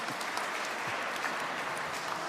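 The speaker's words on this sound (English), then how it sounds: "I will request my all World Trade partners to clap for this," Steady audience applause fills a lecture hall at a traders' lecture event, continuous and even throughout with no talk over it.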